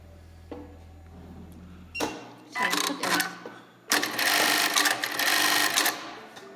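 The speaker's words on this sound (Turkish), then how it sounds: "1500 devre ayarladığımız, hocamla beraber ayarladığımız bir düğme makinesi" An industrial button-attaching sewing machine, set to 1500 stitches, runs in short mechanical bursts, then settles into a loud, continuous rattling whir, close and clear with no talking over it.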